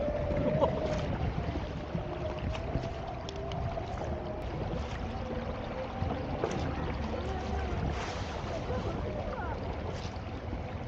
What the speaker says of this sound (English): Testing my homemade DIY outboard electric engine on 8 cells.